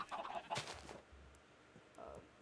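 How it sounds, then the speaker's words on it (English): Chicken clucking in Minecraft, a few soft close clucks at the start and again near the end, faint over quiet game ambience. "Baby chicken!"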